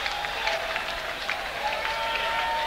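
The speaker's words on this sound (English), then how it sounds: "the crowd is going nuts" Audience at a live Screaming Blue Messiahs rock show in Boston applauding and cheering, a steady dense wash of clapping and crowd noise with no pauses, moderately loud throughout.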